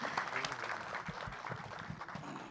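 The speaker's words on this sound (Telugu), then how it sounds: "అందరూ కూడా ఒక్కసారి గోరేటి వెంకన్న గారి కోసం చప్పట్లండి ప్లీజ్" Scattered audience applause at a Telugu film trailer launch event for Crazy Kalyanam, fairly soft and uneven, with a few louder individual claps and some faint voices in the background.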